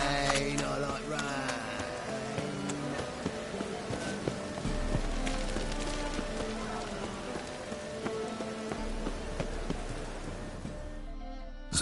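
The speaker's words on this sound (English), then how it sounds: "Rain, I like rain." Steady rain in The Witcher 3: Wild Hunt patters and splashes on surfaces for several seconds, dense and continuous, with no voices.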